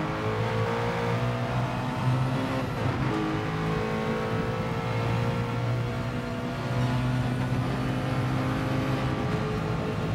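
Race car engine in Gran Turismo Sport revving hard and holding high revs, a loud steady drone with shifting pitch that runs continuously throughout.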